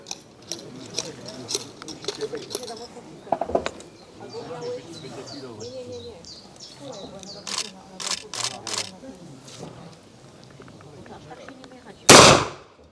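Single sharp gunshot at a shooting brotherhood's bird-target event, loud and close near the end, following a long stretch of outdoor crowd chatter and talk.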